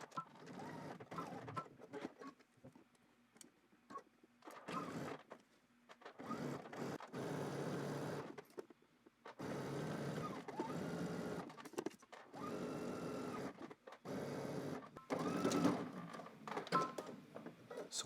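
A sewing machine stitches a pocket bag closed with a 5/8-inch seam on drop-crotch pants, running in several steady bursts separated by short pauses.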